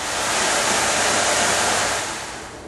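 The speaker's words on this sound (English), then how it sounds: "on this instrument we have the sound of the sea," A Wurlitzer theatre organ's surf effect at a theatre organ heritage centre in Manchester gives a broad, loud, steady rushing hiss like breaking sea waves that swells and then eases off.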